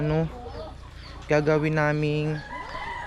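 Chickens cluck and call nearby in drawn-out, tonal notes, with brief bursts of noise around them.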